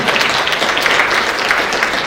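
Loud, steady applause from a spelling bee audience after a contestant's turn, a thick wash of many hands clapping together close by, with no talk.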